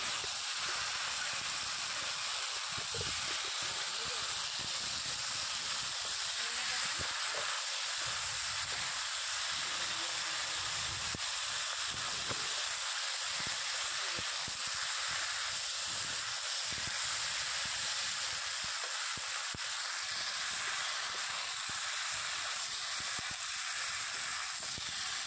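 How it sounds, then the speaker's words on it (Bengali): Meat sautéing in oil with cumin powder stirred in, cooked down in a pan: a steady, dense sizzle and hiss that runs unbroken and fairly close throughout, with no talking. "এরপরে দিয়ে দেব জিরা গুঁড়ো, দিয়ে আবারও মাংসটাকে কিছু সময় কষিয়ে নেব।"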